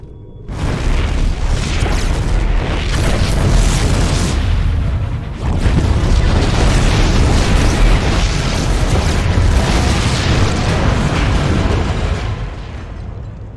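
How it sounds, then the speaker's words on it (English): Loud, dense explosions in a StarCraft II Zerg cinematic roar and crackle almost continuously, with a brief dip before another sustained barrage of booms and bursts. "The explosions have stopped."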